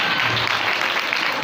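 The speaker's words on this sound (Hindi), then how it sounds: "जोरदार तालियां बजा दीजिए।" Steady audience clapping fills the hall during a church Christmas drama, a dense, even wash of applause with no break throughout.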